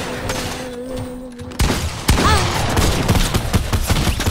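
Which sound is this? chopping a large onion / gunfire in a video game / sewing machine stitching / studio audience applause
gunfire in a video game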